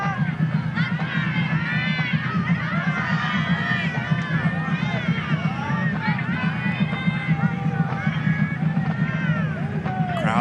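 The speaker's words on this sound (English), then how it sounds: "Crowd making some noise." A crowd roars with steady babble and shouting in the stands at a high school football game in Olathe, a constant loud hubbub under which a voice talks throughout.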